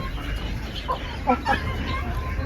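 A few soft Brahma chicken clucks, short and close, over a low background hum with faint murmuring nearby.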